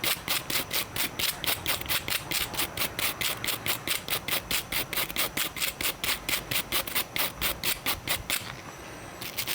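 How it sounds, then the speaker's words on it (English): A nylon brush scrubs aluminum Sig Sauer MPX parts in fast, even back-and-forth strokes, a loud, rhythmic rasping that continues steadily and breaks briefly near the end. "it's aluminum, nylon brushes"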